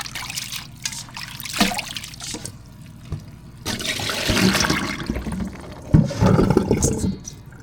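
Wild chives (dallae) rinsed and shaken vigorously by hand in a basin of water, a close sloshing, splashing and trickling sound that swells and fades in uneven surges, with no talking.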